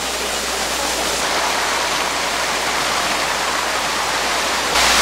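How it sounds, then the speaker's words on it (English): Cascada La Honda, a large waterfall in San Rafael, Colombia, cascading down to a smaller fall below, roars as a steady, loud, broadband rush of falling water that continues throughout with no voices. "This is the large waterfall behind me, and it cascades below to a smaller waterfall"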